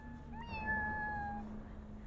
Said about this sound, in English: Make sure we pet the kitty.